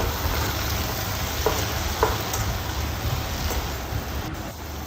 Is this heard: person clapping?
no